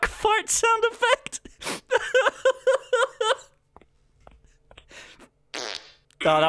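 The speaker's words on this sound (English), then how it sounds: "This is like the best stock fart sound effect." Stock cartoon fart sound effects from the Nickelodeon Clickamajigs video game, several loud, brassy, sputtering bursts in quick succession, then a pause and a few more, with no one talking.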